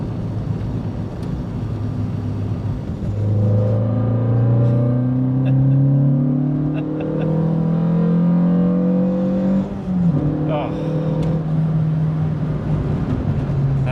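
A Renault Clio 172 Cup hot hatch engine revs up and holds around 5,500 to 6,500 rpm, a loud, close, rising drone with a brief dip and return mid-way, heard alone without talk.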